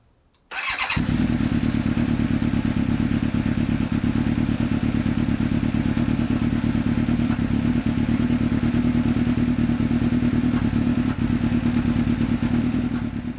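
After a moment of quiet, a freshly rebuilt Kawasaki ZX-7R motorcycle engine fires up for its first start and settles into a loud, steady idle with rhythmic chuffing from the carburettors and clatter, close by.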